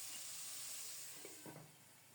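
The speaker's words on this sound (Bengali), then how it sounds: "নেড়ে চেড়ে কিছুক্ষণ ঢাকা দিয়ে বরবটিটা ভেজে নেব" Yardlong green beans fry in a covered pan, giving a faint, steady sizzling hiss with a couple of soft stirring clatters near the end.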